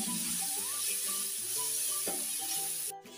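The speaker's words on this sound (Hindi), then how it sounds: "तो केला का फूल डाल दे रही हूँ इसमें। इसको अच्छे से मिक्स कर दूंगी।" Banana flower stirred into spiced masala in a pan for a dry bhujia, with steady frying sizzle and repeated spoon scrapes and clinks against the pan, close and continuous, cutting off abruptly at the end.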